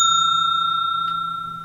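A single bright notification bell ding, clear and close, ringing out and slowly decaying with a sustained metallic tone.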